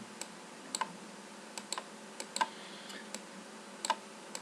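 Typing on a computer keyboard, scattered light key clicks at an uneven pace, close but quiet against a faint room hiss, with no talk.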